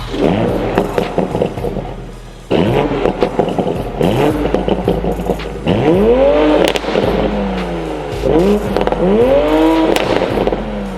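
A 2020 Toyota Supra's stock exhaust in sport mode revs repeatedly, rising in pitch and dropping back, with sharp pops and crackles between blips; loud and close, no voices.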